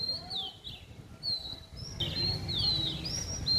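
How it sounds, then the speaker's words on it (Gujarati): A sparrow chirps and sings in short, high, sliding notes, fairly close, over a soft outdoor background hum, in Girnar forest near Bhavnath, Junagadh, India, during monsoon rain. "એ કાંઈ ચકલી જે બેઠી એ ગાય છે જો"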